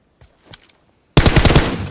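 Sudden burst of rapid automatic gunfire from behind the player in PUBG Mobile, loud and sustained after a near-silent start with a few faint earlier taps.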